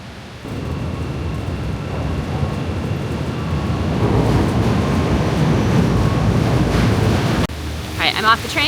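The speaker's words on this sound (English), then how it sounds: "I'm taking the train to work." A commuter train carries a rider on a rainy morning, giving a steady broadband rumble and rushing noise throughout, then a sudden change in tone near the end with some brief higher chirping sounds.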